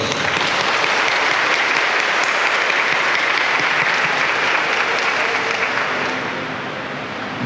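A church congregation at a Holy Family Mass in Kẻ Sặt parish breaks into loud, sustained applause that fills the space evenly, then eases off slightly near the end.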